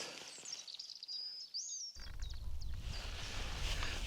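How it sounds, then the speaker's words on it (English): A robin sings from a tree: faint, clear whistled phrases for over a second, followed by a burst of rustling, wind-like background noise. "That's the robin sitting in a tree here."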